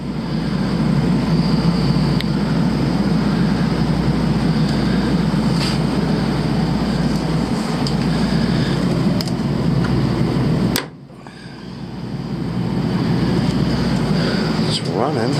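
A rooftop AC pump running with a steady, loud mechanical drone and hum that continues almost throughout, briefly cutting out and then restarting near the end.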